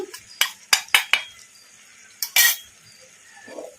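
A spoon scrapes and clinks against a pan as masala powder is stirred into frying chicken over medium flame, about half a dozen sharp metallic knocks in two bursts, close and fairly loud, with no talk.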